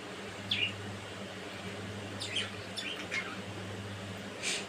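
Budgerigars in a loft shared with pigeons give scattered short chirps and squawks, a few at a time, over a steady low hum.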